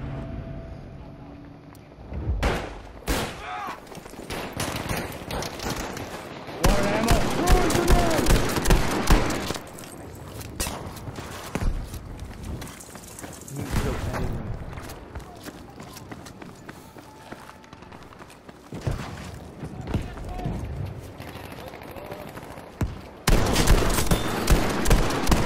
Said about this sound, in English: They're calling artillery in on it.